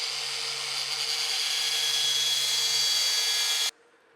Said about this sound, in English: This is a medium grit, they call it on the Scotch-Brite, so more polishing